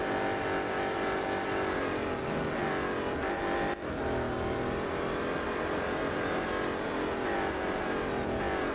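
BMW M Hybrid V8 race car in the Real Racing 3 mobile game screams at high revs in a sustained engine wail with small pitch shifts, one brief dip, and no talking.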